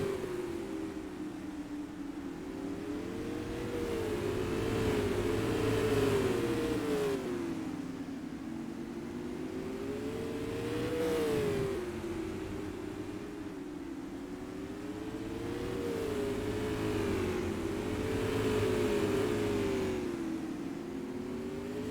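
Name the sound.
race car engines racing at Madera Speedway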